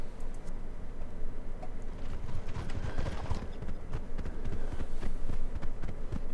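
Horse hooves clip-clop steadily in the video game Mortal Online, a continuous rhythmic patter of footfalls at moderate volume over faint ambient background, with no talk.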